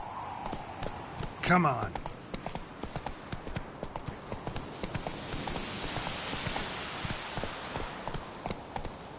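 The horse Roach gallops in The Witcher 3, a quick, steady clip-clop of hooves running close throughout, with a rain-like hiss behind it and a brief voice early on.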